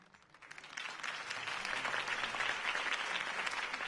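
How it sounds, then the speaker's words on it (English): A crowd applauds a campaign speech in Telltale's Batman video game. The clapping swells quickly from quiet into a dense, steady ovation that continues to the end. "could have heard that applause"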